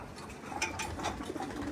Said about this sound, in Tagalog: napakaganda ng mga ibon ng mga entry ngayon